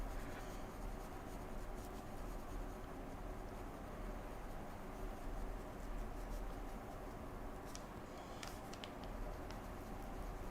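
Colored pencil scratching steadily across paper while layering and reinforcing texture in a drawing, a continuous close, fine scratchy hiss with a few sharper strokes, no talking.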